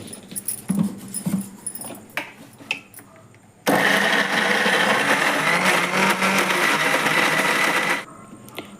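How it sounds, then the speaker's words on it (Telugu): A kitchen mixer grinder blends jackfruit pieces in a mixie jar for juice, a loud continuous whirring roar for about four seconds after some clattering handling sounds. "ఫస్ట్ కొద్దిగా వేసుకొని గ్రైండ్ చేసుకుందాము."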